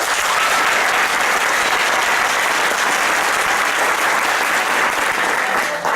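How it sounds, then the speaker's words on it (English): A children's matinee audience claps together on request, a dense, steady wash of applause that stays loud and even from start to finish, with no talking over it. "Can you show me how you can clap?"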